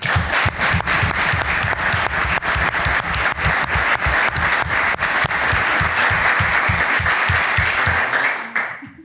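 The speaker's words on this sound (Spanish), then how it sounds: "les pido un aplauso para ella." Audience applause at the close of a technical talk on photovoltaic solar self-consumption for irrigation: dense, steady clapping from a full room that fills about nine seconds, then quickly dies away.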